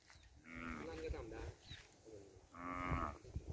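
Cattle on a farm low and moo while grazing in the evening, two long drawn-out calls close by with a brief pause between, under a faint background of field noise.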